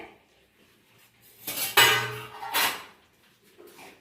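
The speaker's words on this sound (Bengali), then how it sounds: "এবারে ঢাকনাটা খুলে দেখে নিই কতটা হয়েছে" A lid lifted off a pot of khichuri cooking with black nunia rice and dal, a couple of brief metallic clanks and scrapes close by, followed by quiet.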